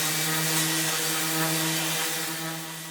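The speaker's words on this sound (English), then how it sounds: "the fastest and easiest way to get rid of those is to sand the whole surface" A power sander works over the flat surface of a homemade CNC mill part to clear tapping burrs, a loud steady whirring drone that tails off slightly near the end.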